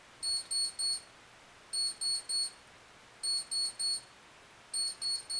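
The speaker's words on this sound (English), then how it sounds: "Alright, so I have it set, the alarm to go off." A Sharp Jumbo LED digital alarm clock's alarm sounds on high volume, groups of three sharp high beeps repeating at regular intervals, clear and alone in a quiet room.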